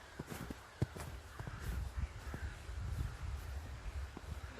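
Crows caw by a river in winter, several harsh calls repeating from a short distance over soft rustling and scattered footstep-like knocks, without speech.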